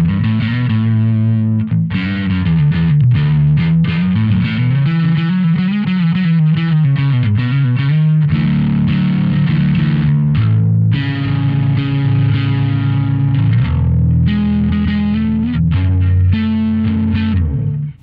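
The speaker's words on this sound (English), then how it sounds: "if we kick in the distortion" Bass guitar played through the Two notes Genome 1.5 with distortion engaged, sustained gritty notes and chords with fizzy upper harmonics, loud and continuous without speech.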